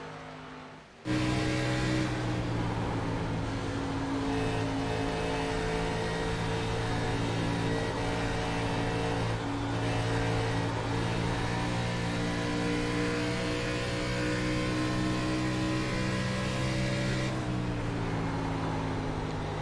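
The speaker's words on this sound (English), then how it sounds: "we go back up front as Cofield is all over the back bumper of Andy Kurtz" ARCA series race cars at Darlington: a steady, loud engine drone with sustained high revs holds throughout, dipping briefly near the start and shifting tone near the end as cars run closely together.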